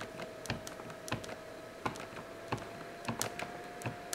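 A cheap pen marks a sheet of paper in short, separate strokes, each a crisp scratchy tick, close and quiet with small pauses between them.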